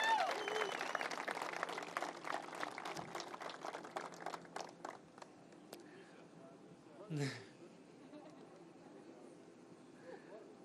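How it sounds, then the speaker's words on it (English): Applause from a crowd at an official ceremony marking the upcoming opening of the Gordie Howe bridge, fairly faint and fading over several seconds into scattered claps and room quiet. "Give her another round of applause."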